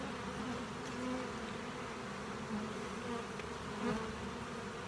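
Honeybees, including Coney Island hybrid bees, buzz steadily in an opened hive, a close, continuous droning hum with slight swells in loudness and no talk.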